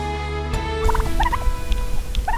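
Pasture-raised turkeys on an open Montana prairie gobble in several quick bursts over a steady low background hum, the calls fairly close and clear with no one talking.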